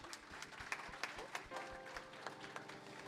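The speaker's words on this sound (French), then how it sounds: "Je veux que vous applaudissiez pour ces personnes." Church audience at a Saturday praise concert applauding for the team, a moderate spread of clapping with some rhythmic beats and crowd noise, faint talk underneath.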